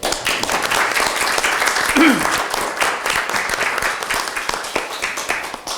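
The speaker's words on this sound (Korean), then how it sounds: "최고위원 여러분 박수 한번." Steady applause from a seated group at a political party's joint leadership meeting of supreme council members and national committee chairs, dense clapping sustained for several seconds, close and even.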